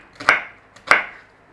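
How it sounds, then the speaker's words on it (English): A knife cubes an onion on a chopping board, two sharp, close chops about half a second apart, each ringing briefly into quiet. "Cube your onion."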